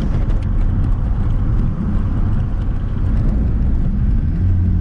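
A diesel-swapped mk2 VW Jetta TDI pulls hard in second gear under turbo boost, a loud, gritty low engine drone from inside the cabin that stays strong and steady throughout with no talking.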